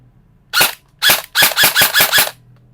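An HFC 202 airsoft gun firing at about 500 fps, with two single close, sharp cracks and then a rapid burst of five shots on full auto, alone in a quiet setting.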